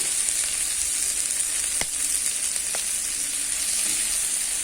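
Chicken sautés in a pan with a close, continuous sizzle and a couple of faint clicks from stirring, and no talk over it.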